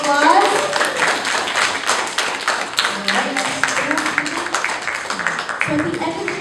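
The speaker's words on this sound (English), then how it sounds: "Give Sam Adams a big round of applause." A school audience applauds students performing a Boston Tea Party scene from the American Revolution: dense, steady clapping throughout, with cheering and voices mixed in.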